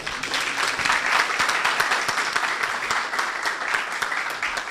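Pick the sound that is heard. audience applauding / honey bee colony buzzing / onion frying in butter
audience applauding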